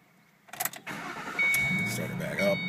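A 2006 Ford Mustang convertible fitted with a turbocharger cranks briefly and catches, then settles into a loud, close, steady idle as people talk nearby.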